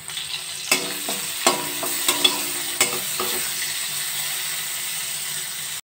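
Carrots, beans and capsicum fry in a pan with a constant close sizzle. Several sharp spatula knocks against the pan are spaced through it, with no talk.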